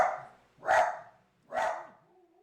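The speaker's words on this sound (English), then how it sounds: "sorry for that Django barking interruption" A dog named Django barking indoors at people seen outside a window: three sharp barks spaced about a second apart, fairly close, with a faint whimper trailing at the end.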